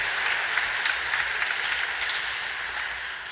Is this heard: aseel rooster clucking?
no